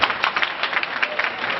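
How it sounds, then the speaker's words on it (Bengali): A crowd at a market opening ceremony in Moulvibazar applauds, giving dense, continuous clapping that sounds fairly close and bright, with no clear voices. "আমি প্রশাসনকে আমার একটা জোরে হাততালি আশা করব"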